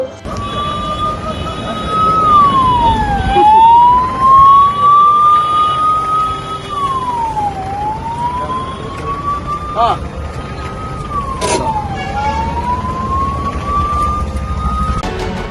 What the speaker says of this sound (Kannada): ಶಾಸಕ ಶಿವರಾಮ್ ಹೆಬ್ಬಾರ್ ಇವರು ವಾಹನವೇರಿ ಸೈರನ್ ಹಾಕಿಕೊಂಡು ಆರೋಗ್ಯ ಕೇಂದ್ರದ ಆವರದಿಂದ ಹೊರಭಾಗದ ರಸ್ತೆವರೆಗೂ ಚಲಾಯಿಸಿ ಗಮನ ಸೆಳೆದರು